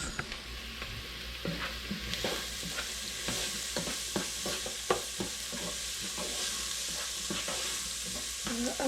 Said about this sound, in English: add a nice glob of garlic